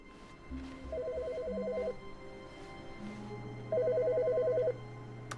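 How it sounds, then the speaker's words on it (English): An in-game telephone in The Stanley Parable: Ultra Deluxe rings in two clear electronic bursts, each about a second long, spaced a few seconds apart over a low ambient hum. "Phone's ringing."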